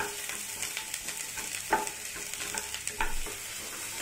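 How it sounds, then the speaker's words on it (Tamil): Vegetables sautéing in butter in a pan for soup, a soft continuous sizzle with occasional stirring scrapes and clicks, fairly quiet and close, with no talking. "இப்போ பட்டரில் நல்லா வதக்கியாச்சு."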